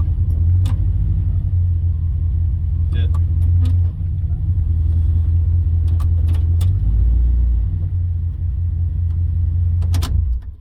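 A 1956 Dodge engine idles steadily up close, a loud continuous low rumble with a slight dip in pitch partway through as it settles lower, and a few faint clicks over the top.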